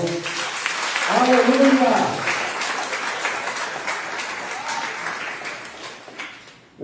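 A church congregation applauds through most of the stretch, a dense wash of clapping that swells early then gradually thins, with a voice shouting out in praise over it near the start.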